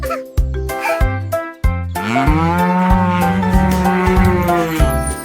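Several loud, drawn-out cow moos close by, the longest stretching for a few seconds, with brief gaps between calls.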